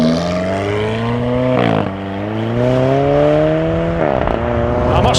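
An Alfa Romeo 4C sports car pulls off onto the road, its engine note climbing steadily through two gear changes, loud and close, with no talk.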